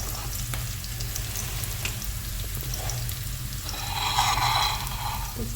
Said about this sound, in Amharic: ይሄው ሽንኩርት እየጠበስኩ ነው ማለት ነው።